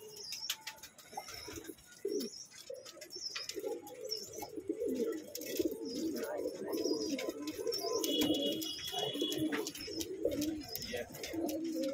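Pigeons coo steadily in a high-flyer loft holding Rampuri, Allahabadi and Saharanpuri birds, a dense overlapping murmur of low throaty calls with occasional chirps and wing flutters, close and constant throughout.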